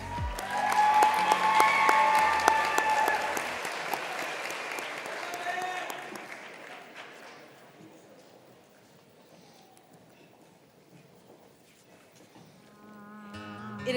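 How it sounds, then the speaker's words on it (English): An audience at an FFA state leadership conference session applauds award winners, a loud burst of clapping that peaks early and then thins out and fades before voices return at the end. "Let's give our winners another round of applause."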